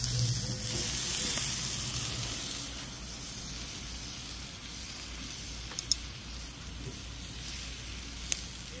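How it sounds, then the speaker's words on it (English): Chicken leg quarters sizzle on a barbecue grill, a soft, steady crackling hiss with a few sharp pops, fairly faint and close. "You hear that sizzle?"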